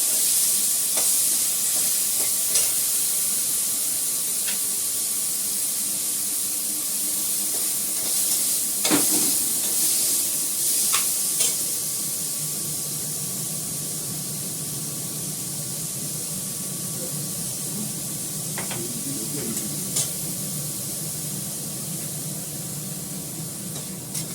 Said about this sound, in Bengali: কুমড়োটা একটু হালকা করে ভেজে নিচ্ছি